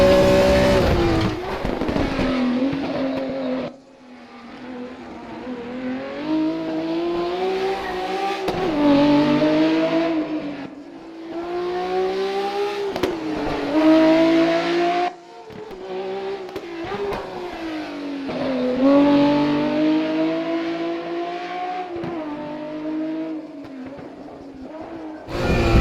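A BMW M1 Procar race engine in a racing game, revving up to about 9,500 RPM. The loud, close engine note climbs, drops with gear changes and climbs again several times, with no talk.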